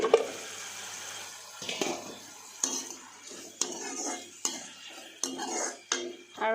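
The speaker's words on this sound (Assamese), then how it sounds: "এতিয়া মই ঢেকীয়া ভাজিখিনি আকৌ লৰাই দিম" Fried dhekia fern greens are stirred in a pan over a medium flame: a series of sharp utensil scrapes and clinks against the metal at irregular intervals, with a faint sizzle between strokes.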